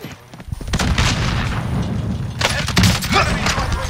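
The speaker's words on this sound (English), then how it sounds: "Another one is shooting at you." Bursts of gunfire from a Call of Duty–style online shooter match run almost continuously, a dense mid-volume clatter of shots and thuds with a louder cluster late on, while players chat over it.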